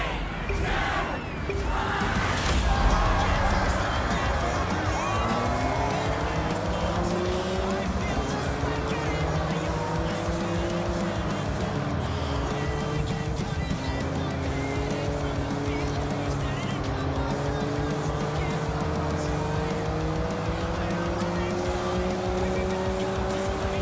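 A tuned car in Forza Horizon 6, driven through Japan, roars loud and close with its engine pitch climbing and dropping through repeated gear changes, with some tire squeal over a steady, constant drone.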